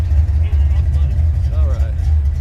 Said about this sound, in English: Getting a little chop over here from this Mustang.